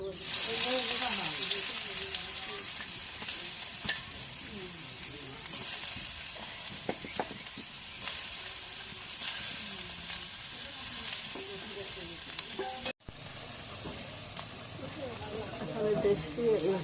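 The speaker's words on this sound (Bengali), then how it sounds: "পেঁয়াজটা তেলের মধ্যে ভাজা হয়েছে" Onions frying in hot oil in a heated wok, with a bay leaf added, give a steady close sizzle and occasional stirring clatter, while a voice talks over the cooking.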